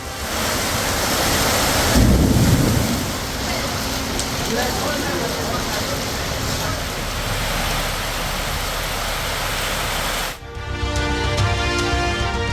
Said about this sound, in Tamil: கோவை மாவட்டம் மேட்டுப்பாளையத்தில் காற்றுடன் கூடிய மழை.